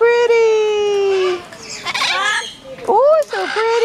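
Parrot squawking at a garden aviary that also keeps flamingos, loud harsh calls close by alternating with someone talking sweetly to the birds.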